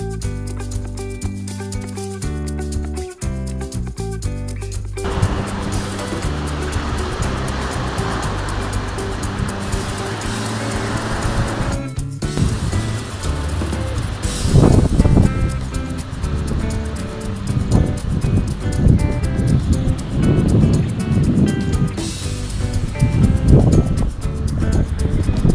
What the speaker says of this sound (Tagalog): malakas ang hangin, malakas din ang alon